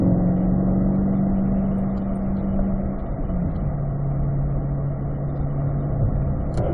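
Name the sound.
C8 Corvette rolling through a corner on track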